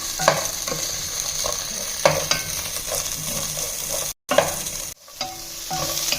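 Onion and amaranth leaves frying in a pan give a constant close sizzle, with periodic scraping strokes from stirring and a couple of brief dropouts.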